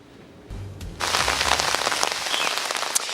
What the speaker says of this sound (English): I'm standing in the rain for sure.